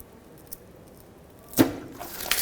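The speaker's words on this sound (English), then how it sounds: "Now grab a pry bar and pry down on the oil pan." Pry bar levering down on a transmission oil pan of a 2007-2010 Chrysler Sebring, a sudden metallic scrape and wet burst near the middle, followed by lighter clinks as oil begins to release; quiet workshop before it.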